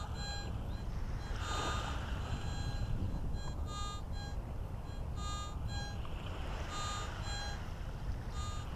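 A metal detector swept over wet sand with its sensitivity turned all the way up gives a wavering, unstable electronic tone that pulses in repeated beeps over a constant loud hiss, with no voices.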